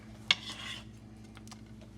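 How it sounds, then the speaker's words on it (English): Raw shrimp are stirred into batter in a bowl, opening with a sharp clink of utensil on the bowl, then soft wet sloshing and a few faint light taps, close and quiet with no voices. "So I'm just going to add them all here now and give them a good stir"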